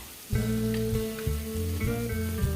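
Grated garlic and tomato sautéing in hot oil in a kadai, a steady close sizzle broken by a few sharp bursts as ingredients hit the pan or get stirred.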